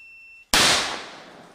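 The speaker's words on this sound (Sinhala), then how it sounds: "දුරස්ත පාලකයකින් රතිඤ්ඤා පුපුරවන උපකරණයක් තමයි මේ." A firecracker set off by a remote-controlled igniter bursts loudly with a single sharp bang after a brief electronic beep, then its crackling noise decays over about a second.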